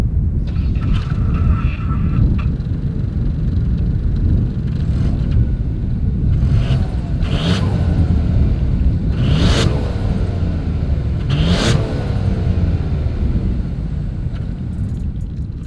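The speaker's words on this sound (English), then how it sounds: "As always, here is that exhaust clip." 2021 Ford Bronco Sport with dual exhaust, a loud, close idle rumble broken by several sharp throttle blips that rise and fall back to idle, with no voices.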